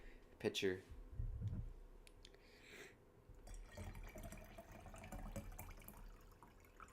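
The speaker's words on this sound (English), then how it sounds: "Gotta top off the water here." Water poured from a pitcher to top off a drinking glass at a desk, heard as a trickling splash with light clinks, partly under a man's speech and background noise.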